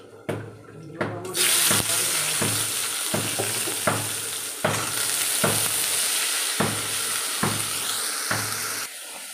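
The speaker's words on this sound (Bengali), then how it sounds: "এই বেগুন ভাজাটা বসিয়ে দিচ্ছি।" Brinjal frying in a pan in a home kitchen gives a continuous close sizzle, punctuated by regular sharp clinks and scrapes roughly every second, with no talking.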